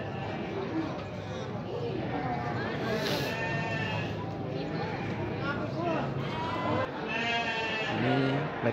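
Sheep bleating at a crowded livestock market in Garut, West Java, several animals calling repeatedly with wavering cries over constant crowd chatter and nearby talking.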